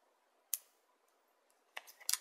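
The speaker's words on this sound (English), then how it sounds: "All right, I cut that out." Scissors cutting paper at close range, a quiet snip followed after a pause by a short cluster of crisp cuts, each a bright brief rasp against near silence.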